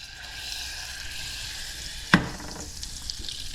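Butter melting in avocado oil in a pot sizzles with a steady high hiss, a sharp clack of the pot or utensil briefly cutting in partway through; no one speaks.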